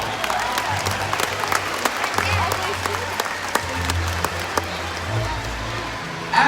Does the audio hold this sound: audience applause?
yes